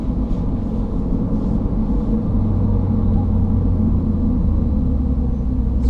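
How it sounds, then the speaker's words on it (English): A 2016 Audi TT engine shifting down automatically on the road, a steady low rumble with road and wind noise, the pitch easing as the gears change, heard from inside the cabin. "Some nice auto downshifting going on."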